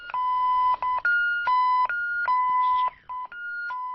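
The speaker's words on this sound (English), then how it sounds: "the beeping sounds that the scanners make" A handheld stock scanner beeps at a wrong item: loud, close electronic tones in a rapid run of repeated beeps that alternate between two pitches, with short gaps between them.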